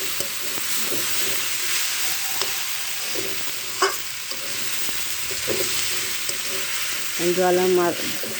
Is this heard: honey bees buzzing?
no